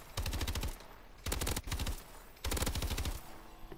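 Unsuppressed automatic gunfire in Call of Duty: Advanced Warfare, three loud bursts of rapid rattling shots separated by short pauses, close and dominant with no voices.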